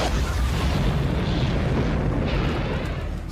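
Missiles launched and exploding in a Star Wars battle, a dense continuous booming roar of blasts and rumble, loud and sustained.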